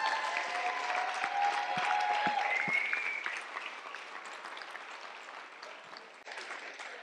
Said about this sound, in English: all the great dads deserve a round of applause